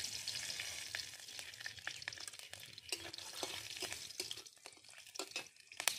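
Green chillies fry in mustard oil with a bright, crackling sizzle and sharp spattering pops, close and continuous, with a few scraping stirs near the end.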